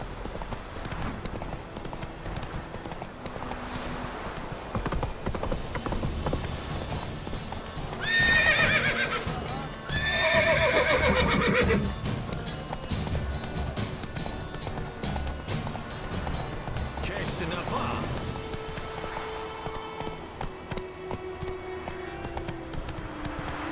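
Roach the horse in The Witcher 3 video game clip-clops in a steady gallop, with two loud neighs breaking out midway over faint ambient game sound and brief voice.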